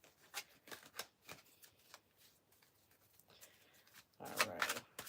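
Tarot cards being separated and shuffled by hand, giving soft papery flicks and rubs at first, then a denser burst of riffling near the end, close and fairly quiet with no talking.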